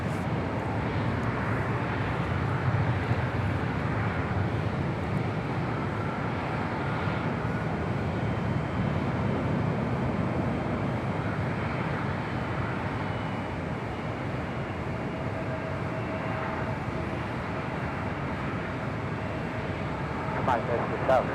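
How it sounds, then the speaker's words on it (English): A China Cargo Airlines Boeing 777 flies directly overhead at LAX, producing a broad, steady jet roar that stays loud throughout, with people talking at times. "We do have a China Cargo Airlines coming in from Shenzhen, flight 229. It's a 777. Gonna be flying directly over our head here."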